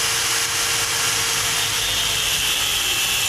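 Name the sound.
impact driver removing stripped allen head bolt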